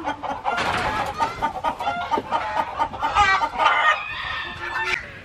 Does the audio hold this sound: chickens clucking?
yes